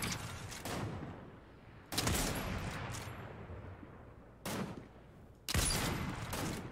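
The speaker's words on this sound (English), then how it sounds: "Thought I would just shoot him through the bush." Gunshots in Fortnite: several loud, sharp shots spaced a few seconds apart, each with a long echoing tail, in quiet game surroundings.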